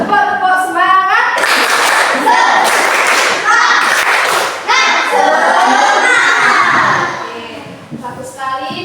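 Students in a classroom do a rhythmic spirit clap, loud, close bursts of clapping in patterned beats mixed with children's chanting voices, trailing off into a few scattered claps at the end.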